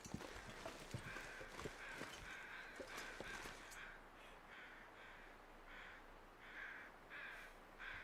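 A crow caws repeatedly at an even pace in the snowy wilderness of the survival game The Long Dark, faint and distant, with crunching footsteps in the first half.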